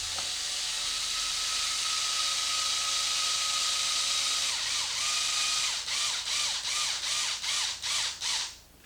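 Traxxas hand driver snugging screws on a new X-Maxx chassis brace, giving a rapid run of ratcheting clicks that turns into a steady series of about eight distinct close, crisp turns near the end, with no talking.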